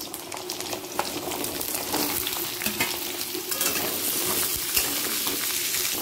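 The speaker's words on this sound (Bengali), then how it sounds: "প্রথমে পটলটা হালকা লাল করে নেব।" Pieces of pointed gourd (potol) frying in oil in a pan, a continuous close sizzle with stirring scrapes and clinks over it, fairly loud and steady, with no talking.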